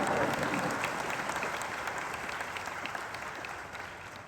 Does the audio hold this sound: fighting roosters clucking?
no